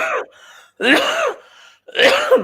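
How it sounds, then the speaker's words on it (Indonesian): Three harsh coughs, one after another with short pauses between them, loud and close with nothing else around. "Maaf karena ada batuk."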